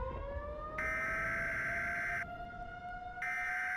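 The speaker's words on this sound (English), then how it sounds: "I think that nuclear siren is probably the scariest sound ever" A nuclear air-raid civil defense siren wails alone at a steady pitch, a sustained rising tone with a harsher upper layer that cuts in and out in long sections, loud and continuous throughout.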